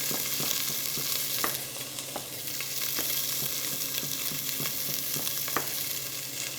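A quail carcass sizzling in a hot pan, a loud, steady close hiss with a few sharp pops and light scrapes scattered through it and no voices.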